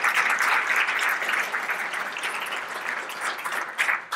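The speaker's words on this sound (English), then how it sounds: "So let's give them a round of applause as well." A crowd applauding steadily, dense and fairly close, gradually thinning toward the end with a few louder claps.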